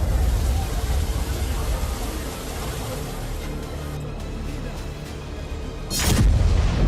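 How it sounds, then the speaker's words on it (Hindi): Bombing explosions in Gaza during an Israeli air campaign: a loud, close boom bursts out near the end over continuous rumbling noise and distant commotion. "देखिए कैसे अचानक कहीं भी धमाका हो रहा है"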